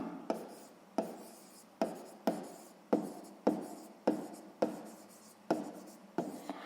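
A pen writes out a sixth-grade math exercise solution on paper, a series of about ten scratchy strokes, each starting sharply and trailing off, in a quiet close setting.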